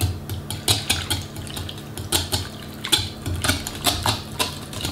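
Three whole eggs are mixed into thick crème fraîche in a bowl, with a rapid rhythmic patter of a whisk or spoon tapping and clinking against the bowl, steady and close.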